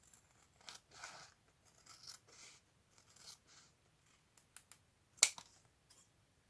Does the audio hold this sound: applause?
no